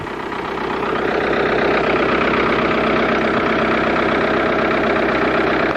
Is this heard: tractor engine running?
yes